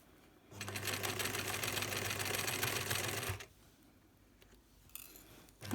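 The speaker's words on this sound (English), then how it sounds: "first we'll just do a back stitch, a few stitches, and then go forward" Sewing machine stitching through a scrub top's neck band, a steady fast mechanical run of about three seconds that stops abruptly, followed by quieter handling noise.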